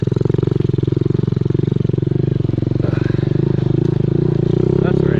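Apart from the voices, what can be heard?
Honda Z50 minibike riding on a trail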